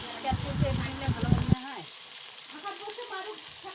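Mutton sizzles and crackles in a pan as it is stir-fried with milk, bursts of frying that drop to a quieter simmer after a stir, faint and close.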